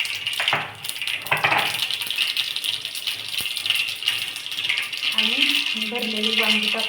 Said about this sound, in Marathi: आपला आता इथे तेल तापलेलं आहे, ह्याच्यात टाकूया जिरे।